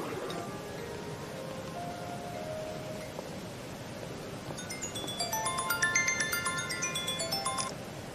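A phone rings while an outgoing call is placed, its electronic ring tone starting quietly and growing into a clear repeating melodic pattern over a low background hum.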